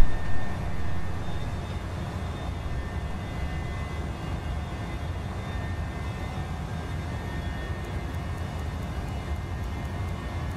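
A steady, loud jet-engine roar from an Embraer E-Jet airliner climbing out after takeoff in Microsoft Flight Simulator 2020, a continuous broadband drone that holds level throughout with no talk.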